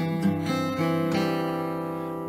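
A short G-position lick on an acoustic folk guitar, played with the pinky. Several plucked notes ring over a sustained chord, close and clear, with no voice over them.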